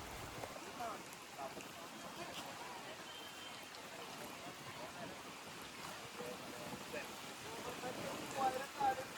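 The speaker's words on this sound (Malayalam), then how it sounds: "ഇവിടെ കാറ്റും കൂടി ഉള്ളതുകൊണ്ട് മഴ നല്ല ശക്തിയായിട്ട് നമ്മളെ ശരീരത്തിലേക്ക് അടിക്കുന്നുണ്ട്." Heavy rain driven by wind pours steadily at a dam reservoir on a monsoon outing, a dense continuous hiss of drops close to the microphone with no talking.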